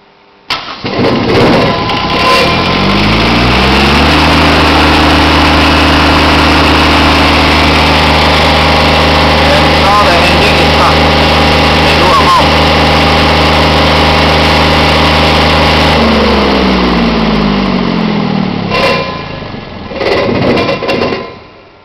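A Pramac P11000 single-phase generator cranks, catches and settles into a loud, steady engine drone with strong low harmonics, holding for about fifteen seconds before winding down and stopping, followed by a few handling clunks.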